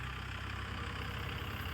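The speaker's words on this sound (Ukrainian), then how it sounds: "Ну і вже відповідно вирушає трактор до свого господаря, який вже його зачекався." Dongfeng 244 tractor engine running steadily, a continuous loud low rumble with no pauses and no voices.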